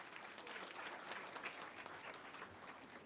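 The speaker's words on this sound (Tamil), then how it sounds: "நல்ல கைத்தட்டல் தாங்க." An audience at a political party event in Tamil Nadu breaks into steady applause, a dense wash of clapping that continues throughout at moderate distance.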